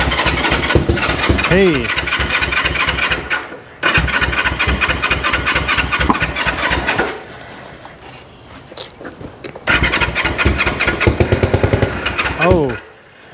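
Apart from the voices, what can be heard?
1974 Honda CL450 motorcycle engine starting after 25 years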